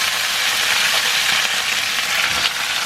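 Hash browns fry in a pan with a loud, close, continuous sizzle and faint scattered pops, with no one talking.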